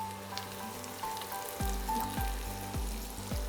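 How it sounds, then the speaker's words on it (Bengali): Onion and garlic frying in a pan for a Bengali bean mash, a steady close sizzle with a few sharp clicks and knocks from a spatula stirring through the last half. "পেঁয়াজটা একটু ভেজে নিই, তার মধ্যে রসুনটা দেবো।"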